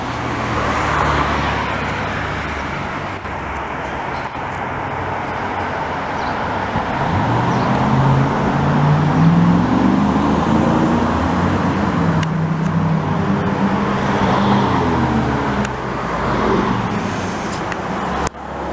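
A two-door Jeep Cherokee drives past on a Montreal boulevard, its engine rumble swelling and fading as it passes nearby amid steady city traffic noise, with no talking.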